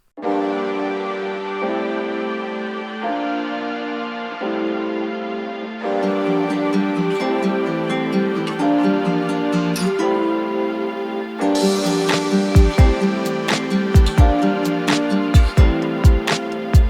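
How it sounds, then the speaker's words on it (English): Keyboards and strings from a song play together in the mix, shifting through sustained chords; a brighter layer enters midway, then sharp percussive hits punch in near the end, with no voices. "And together, all of those keyboards and strings sound like this."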